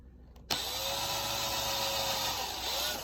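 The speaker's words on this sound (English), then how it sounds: "You drill very slowly down to the bottom of the tape." A power drill whirs to life abruptly and keeps spinning at a steady, high-pitched whine, close by, with slight pitch dips as the bit slowly bores into a guitar headstock.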